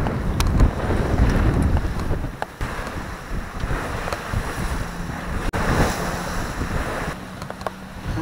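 Sea waves splash and rush against a sailboat's soaked genoa sail during a solo crossing of the Bay of Biscay, a steady loud wash with wind buffeting the microphone and brief sharper slaps.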